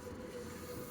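A London Overground train arriving at platform 1 at Liverpool Street gives a brief, quiet, steady rail rumble, heard alone.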